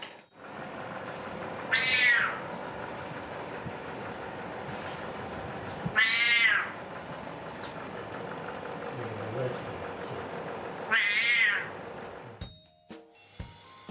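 A cat meows three times, with long pauses of several seconds between calls, over a constant low mechanical hum.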